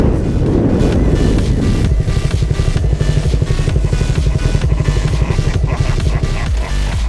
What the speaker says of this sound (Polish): Ale strasznie wiatr dzisiaj.